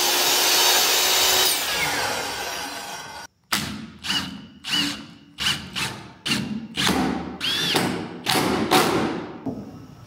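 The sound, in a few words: screwing a framed roof wall into place with power tool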